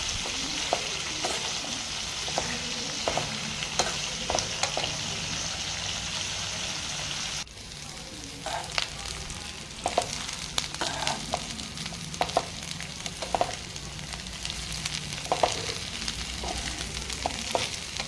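Pirandai (adamant creeper) sautéing with curry leaves in a pan for thuvayal gives a steady close sizzle with frequent scraping stir strokes throughout, no talking.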